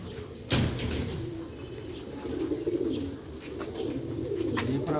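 Black-faced Sheikh pigeons coo softly and repeatedly close by, with low murmuring calls over a background of rustling and a sudden sharp knock near the start.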